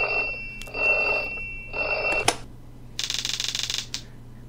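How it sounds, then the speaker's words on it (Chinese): A video game alarm clock in Otaku's Adventure rings in repeated electronic bursts, then after a sharp click a fast rattling ring runs for about a second, close and clear with no voices. "为什么闹钟会响？"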